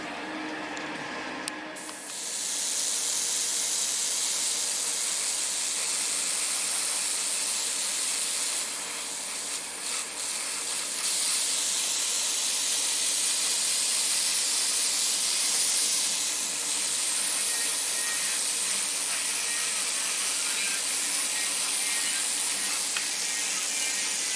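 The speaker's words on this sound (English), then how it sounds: "I'm priming it with Mr. Surfacer" Mr. Surfacer 1000 primer sprayed from an airbrush onto a 1:72 Aoshima Kawasaki Ki-61 model kit, a steady close hiss running almost unbroken for about twenty seconds after a short start, with no voices.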